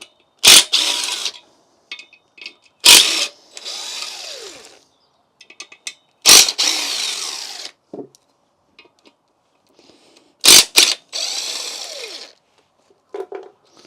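Power tool on a Mini Cooper S undoing the pressure plate and flywheel bolts, several short loud bursts of impact rattle with whirring spin-downs between them, close by, separated by pauses and light clinks.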